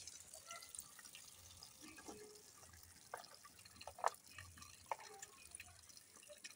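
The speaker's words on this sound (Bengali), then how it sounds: "ফুলকপিগুলো এই যে ভালো করে ধুয়ে নিচ্ছি জলের মধ্যে" Cauliflower pieces are washed in a vessel of water, with faint, close splashes, drips and sloshing clinks spread irregularly through a quiet room.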